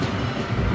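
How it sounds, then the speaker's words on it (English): Disneyland Railroad train rolling into Tomorrowland Station, a brief low rumbling of wheels and carriages, steady and close, without talk. "please remain seated until the train comes to a full and complete stop"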